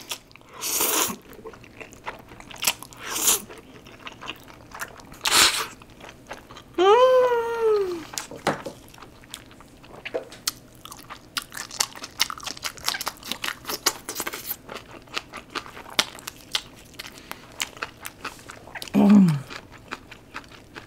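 Crunchy fried chicken drumstick is bitten and chewed up close, with several crisp crackling bites, brief vocal exclamations and quiet chewing between them.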